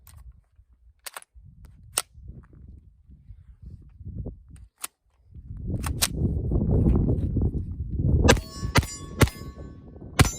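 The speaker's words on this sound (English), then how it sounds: "I really do like pistol caliber carbines. This is one of the more fun guns that I have to shoot." Pistol caliber carbine shots at a shooting range, several sharp, loud reports spread unevenly over the clip, with some metallic clanging and a rumble of background noise between them.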